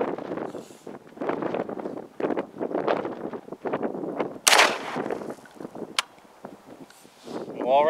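An ATI Omni Maxx Hybrid AR-410 shotgun fires at a jug outdoors: a loud, sharp blast cracks out once, with a fainter report soon after, amid wind noise and someone talking before and after.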